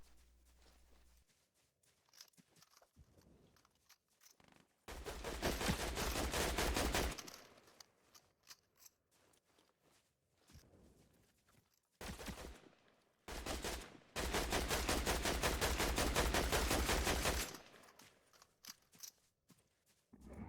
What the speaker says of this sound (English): I reload and go for some more shots